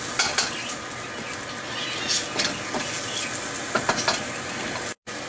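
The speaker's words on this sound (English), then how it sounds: "we'll let our peas and carrots and corn all cook together" Peas, carrots and corn frying together in a pan for fried rice: a steady, close sizzle with scattered clinks and scrapes of a utensil stirring.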